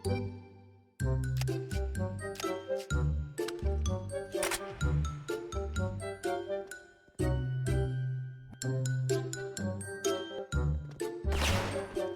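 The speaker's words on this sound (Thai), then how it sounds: "มีเสียกระดิ่งเนี่ย" Bright bell jingles and dings from a Christmas-themed X-MAS M4A1-S gun in a video game, repeating in quick clusters mixed with sharp shot-like hits, close and fairly loud throughout.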